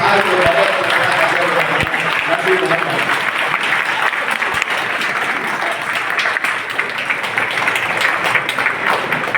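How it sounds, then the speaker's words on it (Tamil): An audience claps at a traders' association awards ceremony, producing dense, loud applause that carries on steadily for about nine seconds with no letup. "எல்லாரும் ஒரு நிமிஷம் கரகோஷம் நன்றி"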